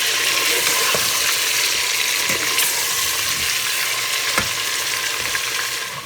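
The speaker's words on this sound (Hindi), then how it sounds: "तो थोड़ा सा इसको भून लेंगे, कलर चेंज हो जाए इसका" Mutton chops fry and sizzle in a pan for masala chops, a dense, steady hiss close by with a few faint clinks of a spoon.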